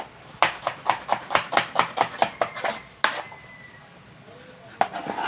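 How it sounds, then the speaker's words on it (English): A knife rocks through an onion on a cutting board, about a dozen quick, evenly spaced chops in a close, crisp rhythm, then a pause broken by a couple of single cuts. "slice it through"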